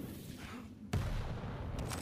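Rocket launcher firing and exploding during a Quake 1v1 match on the Blood Covenant map, a sharp boom around the midpoint over steady busy game noise, with a faint second hit near the end.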